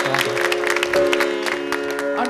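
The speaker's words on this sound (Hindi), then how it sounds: "भरपूर तालियां होनी चाहिए उनके लिए भी।" Applause at a classical music mehfil greets a tabla accompanist, brief scattered clapping layered over sustained instrument drones and tones.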